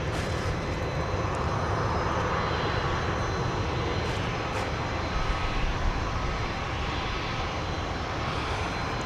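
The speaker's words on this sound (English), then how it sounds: "we have a plane coming in over there" An airplane coming in to land at Dallas Love Field at night, a steady, continuous jet engine roar that holds at an even loudness throughout, with no talking.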